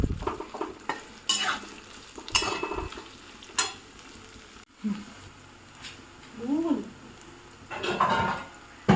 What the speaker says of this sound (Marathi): आता आपला कांदा मी भाजायला टाकलेला आहे।